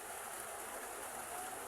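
Steady rain falls during a typhoon over already flooded ground, a continuous dense hiss with no break and no voices.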